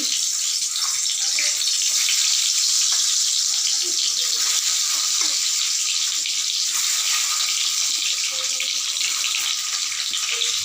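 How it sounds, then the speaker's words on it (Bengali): Boiled eggs frying in oil in a pan for an egg curry with potatoes, a steady, loud, hissing sizzle that continues without pause, with no talk. "ডিমগুলোকে সিদ্ধ করে এবার ভাজতে দিয়েছি"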